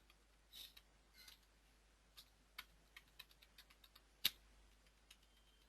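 Someone types a check number into an Excel sheet on a computer keyboard, producing quiet, scattered key clicks in a near-silent room, with one sharper, louder tap near the end.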